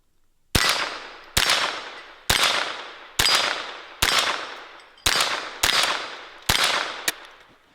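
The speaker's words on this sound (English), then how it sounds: "Just stick the magazine into the rifle, charge it, put it on fire," A Henry AR-7 survival rifle fires a full magazine: eight sharp, loud shots at a steady, slightly uneven rhythm, each cracking close by and ringing out before the next, with no talking.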